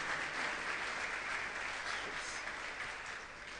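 A church congregation applauds and cheers for a woman named Anne during a French-language worship service, a steady broad wash of clapping that holds evenly and fades slightly at the end.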